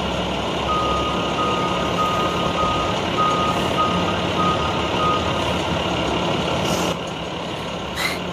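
A semi-truck backing up, its reversing alarm beeping steadily over a low idling engine rumble, heard at moderate distance with a brief air-brake hiss near the end.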